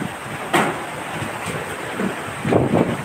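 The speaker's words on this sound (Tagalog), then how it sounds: "Sobrang lakas ng hangin ni Udit" Strong wind from Typhoon Odette blowing near the sea, with steady roaring gusts and surf-like noise that swell louder around a few moments.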